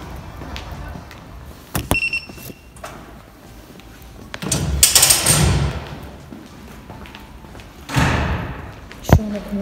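Rear door of a faculty building opening and closing, with a few sharp thuds and a latch clack, a louder rattling swing in the middle, and a final firm shut, amid indoor ambience.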